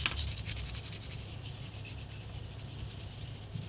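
Scotch-Brite pad scuffing across the plastic shell of a Nerf blaster, a steady close rubbing hiss with brief stroke-like swells, heard alone without speech.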